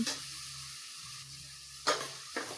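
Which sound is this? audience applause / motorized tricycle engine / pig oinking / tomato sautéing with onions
tomato sautéing with onions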